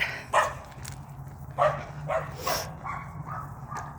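A dog barks outdoors during a walk, a few short yips and barks spaced out over a few seconds, moderately distant over wind and background noise.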